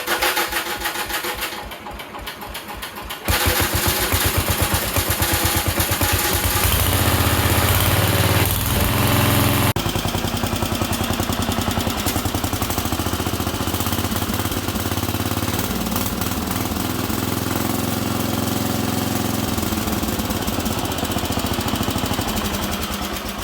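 A Sears lawn tractor engine runs steadily and loudly close by, with a knocking, chattering rumble that continues without a break and no voices.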